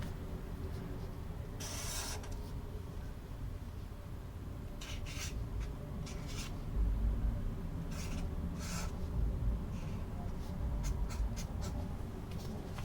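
Pen or pencil scratching on paper at close range while a running stitch total is written down, with short bursts of scribbling and pauses over a steady low background.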